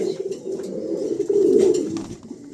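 Adult pigeons coo close by in soft, throaty, rolling calls, one swelling louder midway, over faint background chatter.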